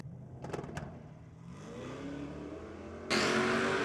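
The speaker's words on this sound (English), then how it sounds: "it sounds like with Sammy Joe's car, it's getting up on the two-step" Drag race car sitting on the two-step rev limiter at a Sydney drag meet, steady stuttering engine drone that swells sharply louder near the end, heard from trackside with no talk.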